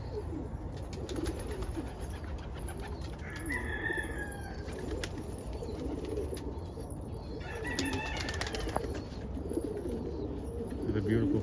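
Pigeons coo and call inside a morning loft housing a frost stencil cockbird, soft overlapping coos and bird calls running continuously over a steady background murmur, with a few brief louder chirps.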